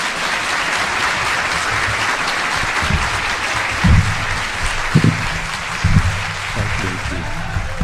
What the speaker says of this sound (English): So another round of applause for Daniel.